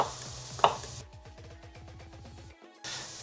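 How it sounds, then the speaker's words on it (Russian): A knife chops garlic on a cutting board in a quick, steady run of close taps over a faint kitchen hiss, then stops briefly before the background resumes. "а мы порежем чеснок"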